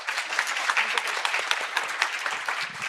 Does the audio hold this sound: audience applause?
yes